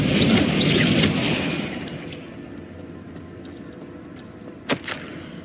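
A Confringo spell explosion in the game Hogwarts Legacy lands as a loud, rushing burst that decays over a couple of seconds into a lower rumble, followed by a short sharp crack near the end.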